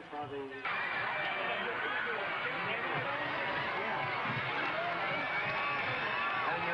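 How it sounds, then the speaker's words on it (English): A stadium crowd at a 1989 Baker versus Capitol Lions football game roars and cheers in a dense, sustained wash after a brief quieter opening, a steady ovation of many voices. "the Buffaloes get a standing ovation from the crowd as they head for the dressing room at halftime"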